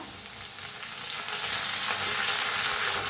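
Mustard seeds, cumin, hing and crushed garlic sizzle and crackle in hot oil as a tadka for kadhi, with a steady dense frying hiss and light stirring scrapes throughout, close and fairly loud, with no voices.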